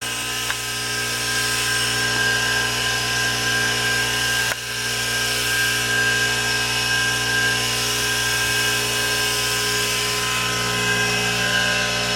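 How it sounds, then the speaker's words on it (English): A tool whirs steadily and loudly while cleaning the brake caliper bolts of a squarebody diesel Suburban, a continuous drone with one brief dip partway through and no talking. "He's cleaning up the caliper bolts."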